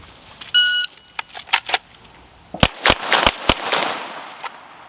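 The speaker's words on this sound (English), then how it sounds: "he'll shoot with rifle, I'll shoot with pistol" Rifle and pistol shots fired during a shooting drill with a timer, a beep followed by a cluster of sharp, loud cracks in quick succession, then a second rapid volley of four shots.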